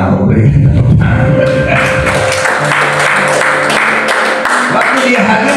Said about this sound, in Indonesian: Wow, berikan tepuk tangan.